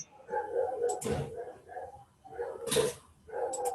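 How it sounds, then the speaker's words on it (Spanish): A dog barks a few times in the background, faint and intermittent, under a classroom-like setting with voices nearby. "el perro pesado que ladra"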